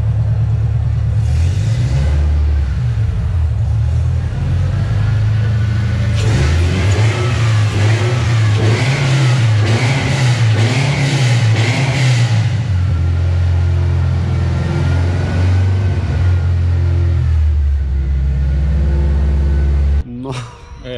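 A Dodge Dart with a Hemi engine swap rumbles and revs loudly up close, its deep engine note rising and falling in surges, with people talking over it throughout.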